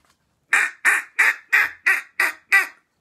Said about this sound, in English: I heard duck sounds.